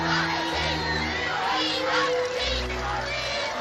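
Thousands of people milling on the Mall cheer and shout at celebrations, a dense, steady roar of overlapping voices with higher excited calls rising above the mass.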